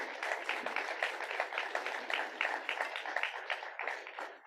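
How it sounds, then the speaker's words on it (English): An audience at a chapter meeting in Port St. Lucie applauds the panelists. The clapping is fairly soft and continuous, with slight surges in its texture. "How about a round of applause for our great panelists?"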